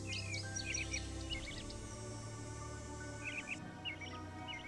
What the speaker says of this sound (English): American robin.